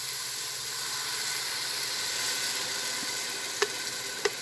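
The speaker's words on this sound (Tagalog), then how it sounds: "Pagkagisa ng ating sibuyas, ilagay po natin ang ating molokeya o ang" Molokhia (saluyot) leaves sizzle with sautéed onion in a pan, a steady close hiss throughout, broken by a couple of sharp utensil clicks near the end.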